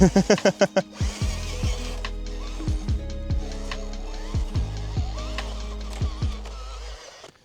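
An Hstar R12-01 RC truck, styled as an F150 Raptor, strains while high centered, its electric motor whining in repeated rising and falling bursts, close and fairly loud, after a few sharp pulses at the start.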